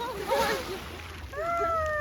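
An evening sea wave at Gurzuf on the Crimean coast splashes and sloshes over bare feet at the shoreline, a short close wash of water mixed with excited voices talking over it.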